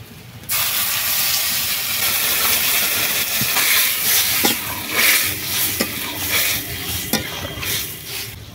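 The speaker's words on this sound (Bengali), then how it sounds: "এবারে জল দিয়ে দিচ্ছি।" Water poured into a spiced curry sizzling in a pan, a steady loud hiss and bubbling sizzle that starts abruptly and continues with stirring scrapes throughout.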